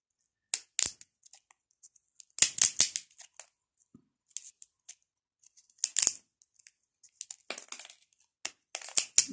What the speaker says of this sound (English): the flat nose snips, these things, you just get them off Amazon